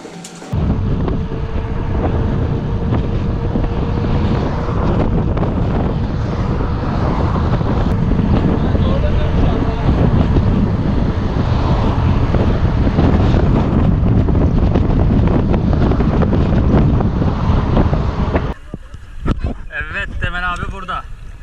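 Steady, heavy wind roar buffets the microphone for most of a ride with a tailwind in Thrace, Turkey, dropping off abruptly near the end to quieter rushing air.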